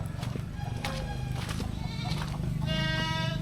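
Goats in a village goat pen near a remote forest settlement bleat amid steady rustling ambience, with one clear, wavering bleat rising at the end.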